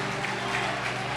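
Church congregation applauding in a brief, dense burst of clapping that fills the room, heard over a low steady background hum.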